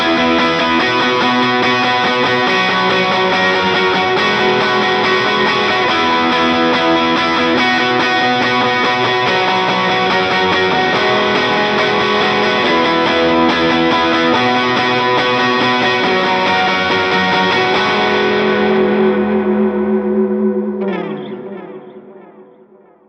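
An electric guitar plays chords from a worship song through a Helix effects processor, thick with distortion, chorus, echo and reverb, sustaining continuously before the final chord rings out and fades.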